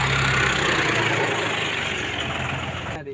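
A tractor engine runs steadily nearby at a constant idle-like drone, carrying farm labourers, then cuts off abruptly near the end.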